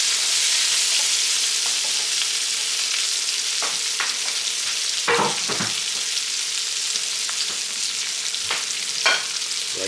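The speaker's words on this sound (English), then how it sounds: "I want to bring it up there so it slightly scalds the onions as it drops in there." Onions sizzling steadily as they drop into hot butter in a pan, a dense, constant frying hiss with several sharper crackling bursts and the faint scrape of stirring.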